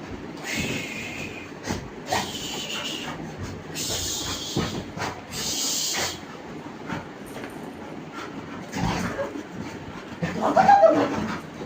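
An agitated Labrador dog gives repeated loud, excited bursts of barking and whimpering close by over a steady background hum, with a final louder outburst near the end.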